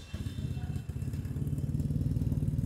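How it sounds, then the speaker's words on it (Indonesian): Triumph Bonneville T100 with a custom exhaust built by Bata Custom and fitted with a dB killer, rumbling loud and close in a steady, pulsing throb that builds slightly in strength. "sekarang gue pengen cek sound dulu nih buat knalpot yang dibikin sama tim Bata Custom di Triumph Bonneville T100 ini nih"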